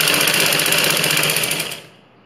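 A sewing machine stitches a ladies blouse in a fast, loud, even whirring run of needle strokes that winds down and stops near the end.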